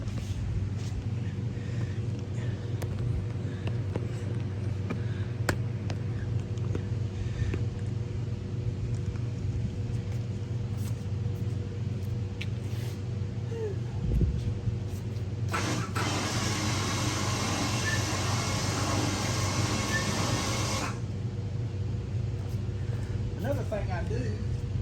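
RAMPAGE motorcycle lift running a bike up its track, a steady low motor hum throughout with a louder broadband grinding burst in the middle, close and moderately loud.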